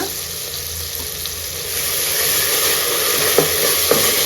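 Ginger garlic paste frying with softened tomatoes in a pan, a steady hissing sizzle that swells slightly midway, with a couple of faint clicks of a utensil near the end and no voices.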